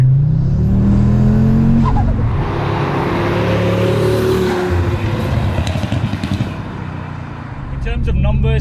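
A VW Golf R fitted with a 640 BHP 2.5-litre Audi RS3 engine accelerates hard in second gear, a loud rising engine roar with a gear change and climbing revs, heard from close by with voices talking over it.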